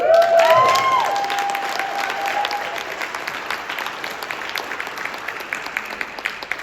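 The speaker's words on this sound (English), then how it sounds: "if I could ask for an applause for them" Applause from an audience for a guest's parents rises loudly at first, then thins into scattered, lighter clapping, with a brief ringing tone at the start.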